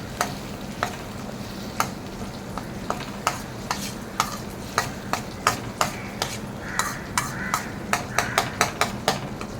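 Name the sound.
tamarind water with spices boiling and being stirred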